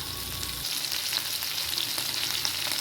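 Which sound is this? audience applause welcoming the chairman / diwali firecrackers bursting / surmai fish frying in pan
surmai fish frying in pan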